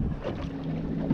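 A boat motor drones steadily on open water on a November gag grouper fishing trip. The low, continuous hum is mixed with wind buffeting the microphone, and the sound is brief.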